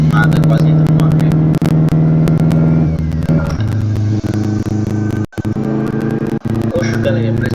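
A turbocharged 1.6 Chevette with a forged third gear revs loudly, its engine note stepping down with a shift and a harsh gearbox whine underneath, broken by a few short cuts near the end.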